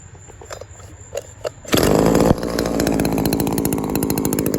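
A Shindaiwa 22T two-stroke engine is handled with a few faint clicks and knocks, then fires with a sudden loud burst and settles into a steady, buzzy idle, close by.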